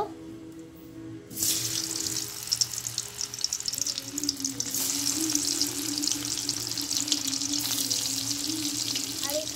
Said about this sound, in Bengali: আমি এখন পনিরটা ভেজে নিব।